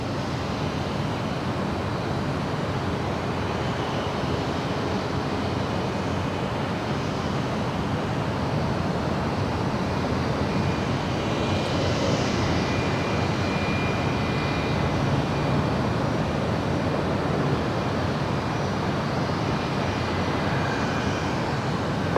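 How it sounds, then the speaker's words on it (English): A Boeing 747-400 cargo jet lands on runway 25 left at LAX, its engines making a steady, broad roar that stays loud and even from start to finish. "It's a 747-400. About to touch down on 25 left there on the south side."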